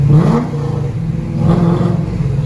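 A Corvette engine revs hard in a tunnel, two rising surges of loud, close exhaust roar echoing off the walls with a steady rumble between them, no talking.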